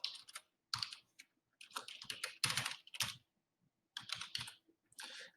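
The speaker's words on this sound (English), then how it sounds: "Type in their email." Someone types an email address on a computer keyboard in quick, uneven bursts of close key clicks separated by short pauses, quiet and with no talking.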